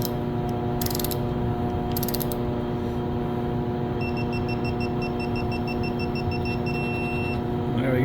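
A ratcheting VANPO 1/2-inch digital torque wrench clicks a few times, then a high electronic beep sounds repeatedly in short pulses at the set torque over a steady mechanical hum.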